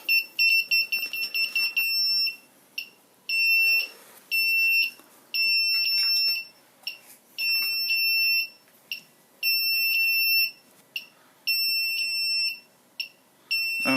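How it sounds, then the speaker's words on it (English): Flight controller on an X Racer F303 V2.1 racing drone board, powered over USB, beeping from signal loss: loud, shrill repeated beep bursts in an irregular on-off pattern, close and alone. "Oh, signal loss. That's why it's beeping all over the place."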